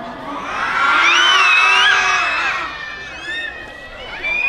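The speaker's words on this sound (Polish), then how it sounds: "Ale jak w górze, to głośno." Crowd of children at a live children's song concert shouting and screaming loudly together in a sustained burst that swells and then eases, with a second, quieter round of yelling following.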